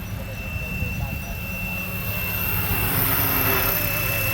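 A repaired BO-105 scale RC model helicopter, size 470 with a three-blade tail rotor, comes in to land outdoors: a steady droning rotor whine and buzz that swells slightly toward the end, with someone talking over it.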